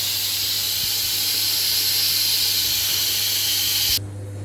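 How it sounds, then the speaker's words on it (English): Steam hisses hard and continuously from the release valve of a Pressure King Pro pressure cooker holding beef stew and dumplings, loud and close, then cuts off abruptly near the end, leaving a low hum. "I'm just going to get the pressure out of that"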